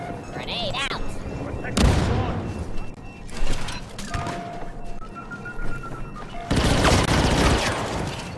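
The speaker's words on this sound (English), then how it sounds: "Grenade out." Star Wars Battlefront II gameplay with a sharp grenade blast followed by bursts of gunfire and a second heavy explosion, loud and chaotic over game background noise.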